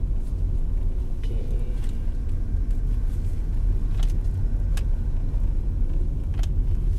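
A 2021 Mitsubishi Xpander facelift with a CVT transmission rolls along with a steady low road and engine rumble inside the cabin. A few faint clicks and taps sit over the drone, and no one speaks.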